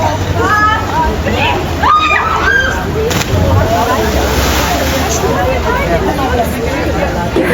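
Noisy outdoor water scene in Italy with sloshing and splashing as people jump in, under continuous excited chatter and background crowd babble, water sounds close and steady throughout.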